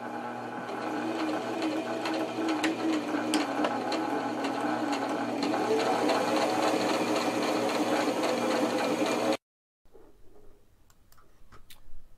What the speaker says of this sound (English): let's go ahead and just stitch the bottom of these pockets right now